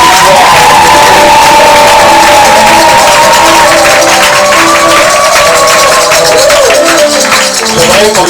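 A church congregation cheers and acclaims loudly, a dense sustained roar of shouts and whoops filling the whole moment.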